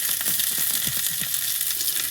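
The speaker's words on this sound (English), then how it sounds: "steak's frying off nicely" Steak frying in a pan aboard a rocking boat, a steady close sizzle and crackle with faint stirring or shifting sounds, no voices.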